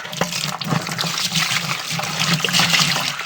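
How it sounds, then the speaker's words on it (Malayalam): Water poured over paddy seeds mixed with Pseudomonas and stirred by hand, a steady close sloshing and trickling that runs continuously throughout, with no talk. "അതിൽ കുറച്ച് വെള്ളം ഒഴിച്ചിട്ടൊന്ന് അലമ്പാണ് വേണ്ടത് ആദ്യം നല്ലപോലെ മിക്സ് ആക്കണം ഇതാ ഇങ്ങനെ"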